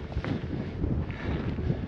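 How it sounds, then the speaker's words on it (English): Strong wind roars across the exposed summit of Concepcion Volcano on Ometepe Island, Nicaragua, a steady, heavy buffeting rush battering the microphone without pause. "it's super windy"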